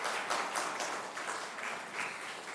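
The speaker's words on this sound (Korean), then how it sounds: "우리 박수로 한번 환영해 주시면 좋겠습니다." Church congregation applauding to welcome a newly registered member during Sunday morning worship, a steady, fairly close burst of many hands clapping that fills the room for a few seconds.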